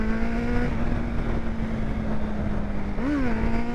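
A Honda CBR motorcycle on a night ride drones with a steady, loud exhaust note at near-constant revs, then briefly blips and settles back, heard close with wind rush and no talking.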